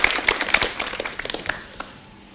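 An audience at an Indonesian language event in a hall breaks into brisk applause, a dense burst of claps that gradually thins and fades over a couple of seconds.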